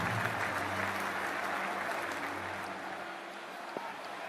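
A cricket stadium crowd before an RCB vs CSK match applauds in a steady, distant wash of clapping and murmur that fades slightly toward the end.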